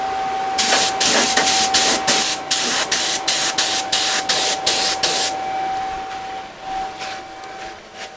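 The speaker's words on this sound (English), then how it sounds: "That'll also give me a test spray." A spray gun spraying paint in a 1955 Triumph TR2 engine bay hisses in a rapid series of short bursts, then eases into a steadier spray, close up, over a constant high whine.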